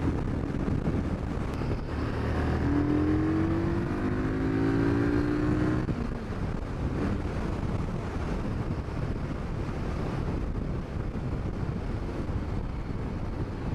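2017 Harley-Davidson Street Rod 750 motorcycle accelerating hard at speed, its rising engine tone partly buried in heavy, constant wind roar throughout.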